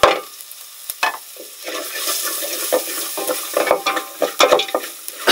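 Garlic, chilies and ginger fry steadily in a pan, a continuous bright sizzle with occasional stirring scrapes and clicks, close and fairly loud, with no voices.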